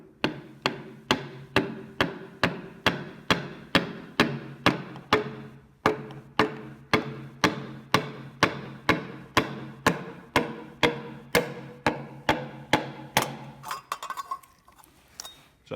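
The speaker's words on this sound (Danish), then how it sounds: "tager jeg lige skaftet af en hammer og banker lige så forsigtigt herovre på stemplet" A hammer handle taps gently and steadily on a piston of a Ferguson 35 four-cylinder diesel engine during a rebuild, about two dozen evenly spaced, crisp metallic knocks close up, ending with a few clinks and rustling.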